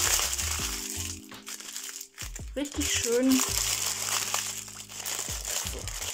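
A crinkly paper sandwich bag crumples close up for several seconds, with brief talking mixed in.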